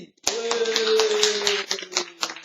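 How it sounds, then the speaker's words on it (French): An audience applauds a singer at a Gopalji temple gathering, dense clapping starting abruptly over a sustained tone and continuing with uneven accents as it thins out. "On l'applaudit."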